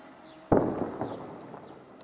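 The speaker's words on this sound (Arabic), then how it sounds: "قوات النظام المتمركزة في جبل الواحة تقوم بقصف مدينة سفيرة وما حولها" Artillery shelling from a mountaintop army position onto a Syrian town, heard at a distance: one sharp, loud blast followed by a long rumbling decay and a few fainter echoing thuds, with no talking.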